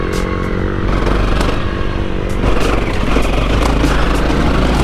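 An adventure motorcycle labors in third gear up a forest hill, its engine lugging low and rough with a steady throbbing drone, close and loud, with scattered clatter and scraping from the trail underneath.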